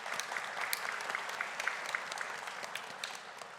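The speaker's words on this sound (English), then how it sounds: "A round of applause." Audience applause at a high school Seal of Biliteracy ceremony: steady, dense clapping from a sizable crowd filling the room throughout, with no speech over it.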